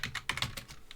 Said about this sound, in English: I just typed in the data editor